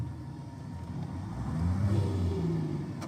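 A truck engine in a trucking video game, a KTA engine, drones steadily, its pitch rising as it revs up midway, then settling into a lower rumble; no one speaks.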